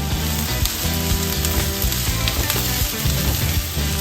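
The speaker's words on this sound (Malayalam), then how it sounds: "ഇതെല്ലാം കൂടി ഇട്ടൊന്ന് നമുക്ക് വഴറ്റിയെടുക്കാം." Green chillies, thin strips of ginger and curry leaves sauté in hot oil in a pan for a chicken kurma, giving a steady, close sizzle with low music-like tones running underneath and no talking.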